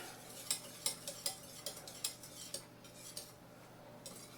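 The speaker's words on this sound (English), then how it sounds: "And just take a whisk or a spoon, mix it in" Whisk or spoon mixing Dijon mustard in a bowl, a faint, steady series of light clinking strokes at a quick rhythm, quiet and without talk.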